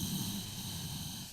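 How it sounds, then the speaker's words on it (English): Soft ujjayi breath drawn through the nose with the mouth closed, a gentle hushing rasp like fogging sunglasses, steady and close for the whole moment with no voice. "they create that sound of fogging of sunglasses with closed mouth through the nose"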